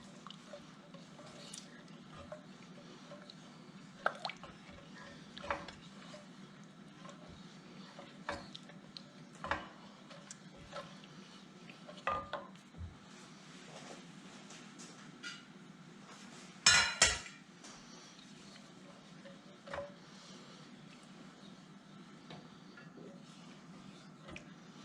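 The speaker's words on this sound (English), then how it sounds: "Now we're going to stir this all together." A spoon stirs curried lentil, tomato and coconut soup in a pot over a gas flame, giving scattered soft clinks and scrapes against the metal with one louder clatter midway, over a steady low burner hum.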